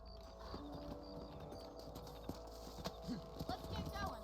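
In the video game Red Dead Redemption, a horse's hooves clip-clop in an uneven walking rhythm, fairly quiet and close, with game ambience and speech around it.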